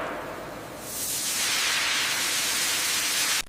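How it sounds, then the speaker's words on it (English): Steam treatment of papaya fruit in a factory produces a broad, steady hiss that swells after about a second and holds loud and continuous before cutting off abruptly, with no voices present. "Steam gently stabilizes the fruit, extending shelf life without cooking."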